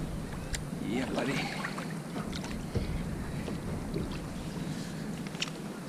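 Paddling a Prowler kayak on open water while halibut fishing, with soft splashes and drips from the paddle strokes against light wind, and faint voices in the background.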